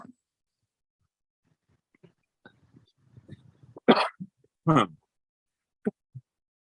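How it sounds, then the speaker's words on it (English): A person clears their throat a couple of times in short, rough bursts, close and quiet, with small mouth noises and soft breaths around them. "Clear my throat."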